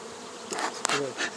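A short, close buzz of bees or similar insects, with a brief sharp click partway through and no one talking.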